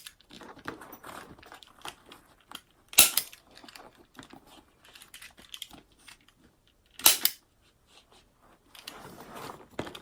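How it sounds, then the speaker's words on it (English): Staples being cut out of a handbag under construction, heard as quiet snipping and scraping with two sharp, louder metallic snaps spaced a few seconds apart. "we are just going to cut these staples out"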